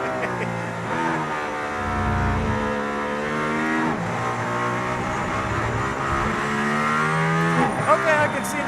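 Mercedes-AMG ONE hypercar engine roaring steadily from inside the cabin while driving, a loud continuous harmonic drone that rises and falls with gear changes, with people talking over it.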